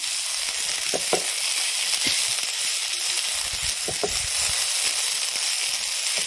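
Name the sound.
banana stem frying and being stirred in pan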